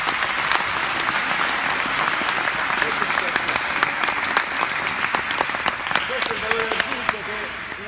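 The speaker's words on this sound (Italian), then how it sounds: "Quindi io farei un doppio applauso a Pat" Sustained applause from an audience, a dense steady patter of clapping throughout.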